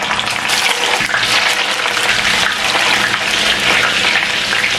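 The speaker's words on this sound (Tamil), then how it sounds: "இப்போ இதை நாங்கள் பொரிச்செடுப்போம்." Eggplant slices frying in hot oil for a shrimp and eggplant dish, a loud, dense, continuous sizzle and crackle heard close up without talk.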